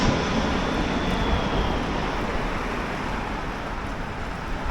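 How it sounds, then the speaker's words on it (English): A plane passes over a quiet residential area of Shanghai near an airport, a steady broad roar holding at constant loudness throughout with no voices. "You see another plane there."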